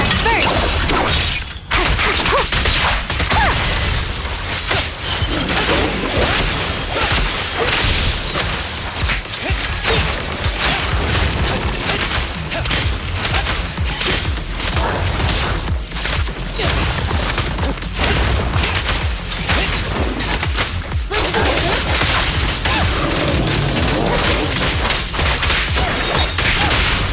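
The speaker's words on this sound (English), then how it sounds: "Ever heard the whistle of arrows in flight?" In a loud combat scene from the Zenless Zone Zero video game, arrows whistle through the air. Sharp whooshes, whip-like cracks and clattering impacts pile up densely and keep going without a break.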